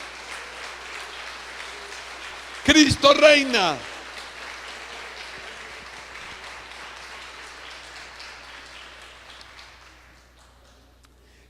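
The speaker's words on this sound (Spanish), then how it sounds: "Dale un aplauso a Cristo Jesús." A church congregation applauds in praise of Christ, a steady wash of clapping that swells briefly as a voice calls out over it, then slowly fades away to near silence.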